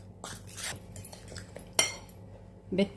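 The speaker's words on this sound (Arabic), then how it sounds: "نخلط الخليط نتاعي ونشوف" Egg mixture whisked by hand in a bowl, with a run of soft clinks and scrapes of utensil against the bowl, a sharper clink near the middle and another knock at the end.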